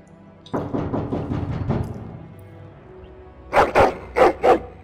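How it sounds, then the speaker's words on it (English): A dog in the Dragon Age: Origins video game barks and growls angrily, first a quick run of about six rough barks, then a short pause and four louder, sharper barks, with no talk over them. "Angry barking and growling."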